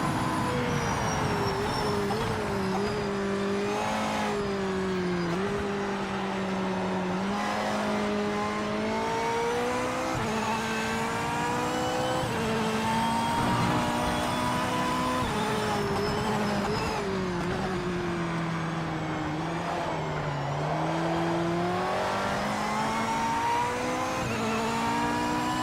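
A Corvette race car in the racing game Project Motor Racing drones loudly and continuously, its engine pitch climbing and falling through gear changes and corners with no voices.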